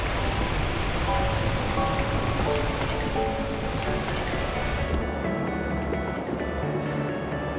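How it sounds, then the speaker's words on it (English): Heavy, steady rain pours down in the video game Beacon Pines, a dense hiss of drops on surfaces, loud and continuous, with the high wash dropping away near the end. "At that moment, the heavens opened up, unleashing torrential rain."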